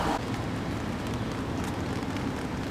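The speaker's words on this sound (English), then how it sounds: "This is where I am right now, in the rain." Steady rain falling and pattering on surfaces, a dense continuous wash of droplets with scattered louder taps, no voices.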